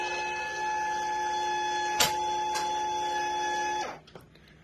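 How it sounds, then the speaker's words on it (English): A linear actuator pulls down the foot pedal of an Xi3 trolling motor mounted on an Old Town PDL 120 kayak. It gives a steady, tonal electric motor whine with a couple of sharp clicks, then stops abruptly near the end. "the linear actuator right down here is going to go into action and pull the foot pedal down for us"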